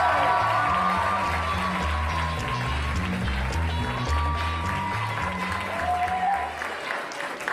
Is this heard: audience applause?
yes